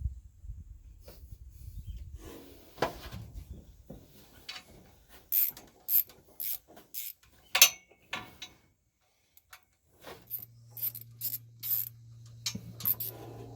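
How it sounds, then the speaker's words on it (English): Wrench turned on the header bolts of a big block Mopar 400 engine, giving a series of sharp metallic ratcheting clicks and taps in irregular bursts, with a low hum coming in toward the end. "I'll have to put a wrench on it."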